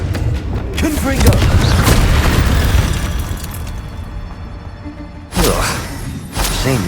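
Confringo spell blasts in Hogwarts Legacy burst out as loud, booming explosions, one rumbling blast fading over several seconds before a second sharp burst and another impact close behind.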